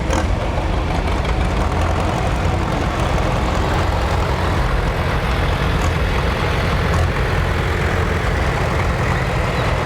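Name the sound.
tractor engine running at a cotton gin festival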